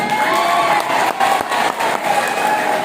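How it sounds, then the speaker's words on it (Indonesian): Crowd clapping at an Islamic Maulid Nabi religious gathering, a dense steady patter of applause with some cheering mixed in, loud and close throughout. "Tepuk tangan di depan ini"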